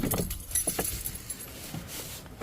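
A bunch of keys jangles in short metallic bursts near the front door of a house, with faint background hum and no talking.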